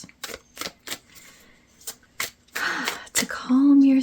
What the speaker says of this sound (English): as I'm shuffling out your cards